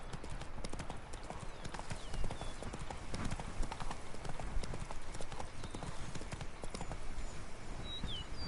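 Roach, a horse in The Witcher 3, gallops with a rapid, continuous drumming of hooves over ground, fairly close and steady throughout, while a faint voice speaks in the background.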